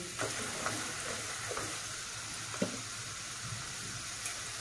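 Colocasia stem and jackfruit seeds sizzling in oil with turmeric added, a continuous low fry broken by occasional scrapes and stirring taps.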